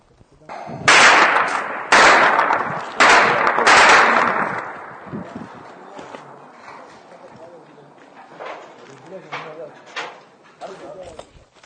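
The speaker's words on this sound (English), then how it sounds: "we're now being ushered away after hearing very close gunfire" Several sharp, loud gunshots crack close by in quick succession in a Sudan conflict zone, followed by softer, more distant pops and scattered voices in the background.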